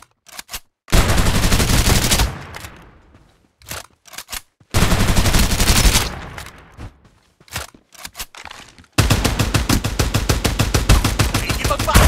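Rapid automatic gunfire bursts in the Farlight 84 battle royale video game, loud and close, with several sustained volleys separated by short gaps and a continuous stuttering stream of shots at the end.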